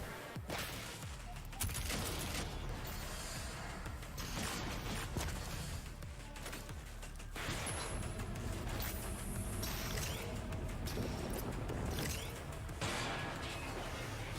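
Rapid weapon fire from a brand new gun in the shooter game Doom Eternal, dense bursts of loud shots and crashing impacts running through the whole stretch with game music and effects, and a voice speaking briefly over it.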